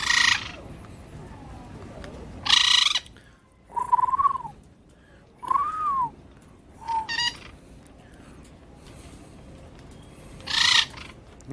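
Birds call in short bursts between stretches of a person talking to them; several hooting, warbling calls rise and fall, some with a bright shrill edge, set against a low background hum.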